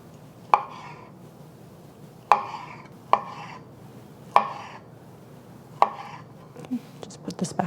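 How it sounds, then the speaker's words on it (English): Fish cake sliced with a knife on a cutting board in a home kitchen, five or six sharp, separate chops spaced a second or more apart, close and clear, with a few faint clatters at the end. "I also have 2 fish cake that I'm using, and this is about 2 ounces. And we're just going to slice it."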